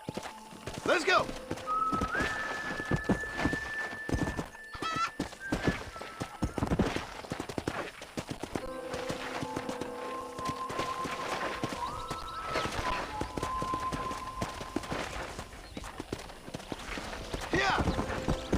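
Horses gallop in the Red Dead Redemption video game, with hooves clip-clopping steadily at close range beneath tonal game music and effects.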